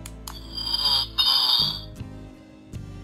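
An E.T. talking figurine with lights gives off bright electronic tones, a sustained chiming ring followed by a few short electronic blips, loud and close with no talk over it.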